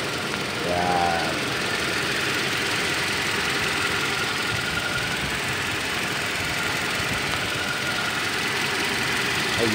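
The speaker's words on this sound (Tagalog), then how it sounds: "So ito na yung Hilux natin, umaandar na siya." A freshly overhauled Toyota Hilux 2TR engine idles steadily with a continuous, even rumble and broad mechanical hiss, close by and unchanging throughout, with a brief faint voice near the start.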